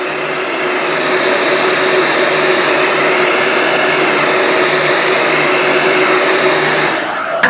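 A heat gun blows steadily on a plastic sheet being warmed evenly before bending between two pieces of wood, a loud continuous airy whoosh with a faint whine that cuts off near the end.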